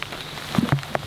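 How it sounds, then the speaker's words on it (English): Light rain begins to fall while a catfish is being fought from the bank in France, heard as a soft hiss with a few scattered patters and taps close by. "it's just starting to rain"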